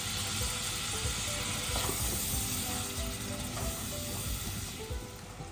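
Prawns fry with onion stalks in a pan, giving a steady, close sizzle that runs unbroken with faint stirring underneath.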